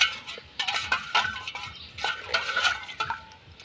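A spoon stirs coconut sharbat, a green-coconut summer drink, in a vessel, giving repeated close clinks and swishing scrapes in irregular bursts with no talk.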